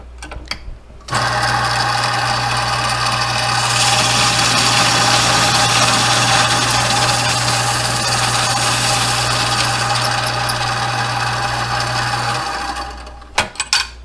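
A motorized belt grinding jig grinds a taper onto the end of an abrasive belt, a loud steady whirring drone with a constant hum that runs for about eleven seconds before stopping, followed by a few clicks.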